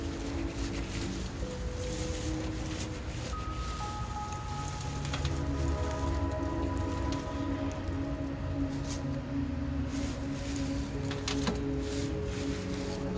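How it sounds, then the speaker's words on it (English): Rain falls steadily, pattering and drumming on a nearby surface with soft dripping tones, a continuous wet wash with no voices. "Trying to protect it from all of this rain that we've been having, so it wouldn't get so soaked."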